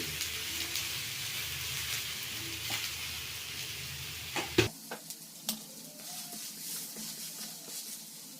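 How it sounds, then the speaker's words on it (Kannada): Onion dosa frying in ghee on a hot pan just after flipping, a steady broad sizzle with a few sharp clicks and taps of a spatula partway through, close and fairly loud with no voices. "ಈಗ ನಾನು ಉಲ್ಟಾ ಮಾಡ್ತಾ ಇದ್ದೀನಿ ದೋಸೆನ ಇದ್ರ ಮೇಲೆ ಸ್ವಲ್ಪ ತುಪ್ಪ ಹಾಕೊಳ್ತಾ ಇದ್ದೀನಿ"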